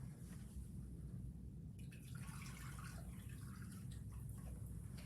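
Warm distilled water is poured into a borax and vinegar cleaner mix, a soft, faint trickle that starts partway through over a low background hum.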